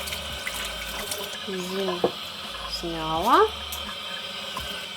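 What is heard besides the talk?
meat rinsed under running cold tap water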